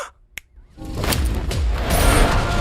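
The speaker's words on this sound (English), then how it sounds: "When I snap my fingers, you will obey our every command." A single crisp finger snap in the animated film Captain Underpants: The First Epic Movie, heard alone in near silence and followed by a swelling whoosh of sound effects.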